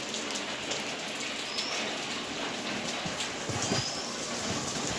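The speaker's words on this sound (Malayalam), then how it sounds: "പുറത്തത്തെ മഴ ഭയങ്കര മഴയാണ് കേട്ടോ ഗൈസ്" Heavy rain falls outside in a continuous loud wash of dense drops, steady throughout with no break, and a faint bird call sounds briefly behind it.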